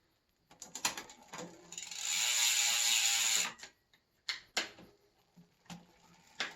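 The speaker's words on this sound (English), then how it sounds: "Instead of pedaling, you just click it. There it goes. Click." Gear mechanism on a Trek singlespeed converted to 1x8 gives sharp clicks, then a fast buzzing ratchet whir of about a second and a half, followed by more scattered close clicks.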